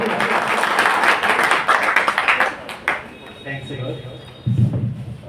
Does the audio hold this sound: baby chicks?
no